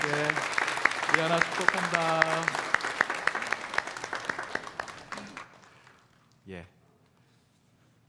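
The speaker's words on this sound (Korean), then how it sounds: "박수 한번." A church congregation claps after a Sunday worship prayer, a dense burst of applause under a voice speaking, then fading out to near silence before one short spoken word.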